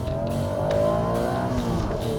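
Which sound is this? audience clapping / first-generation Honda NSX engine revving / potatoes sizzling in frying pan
first-generation Honda NSX engine revving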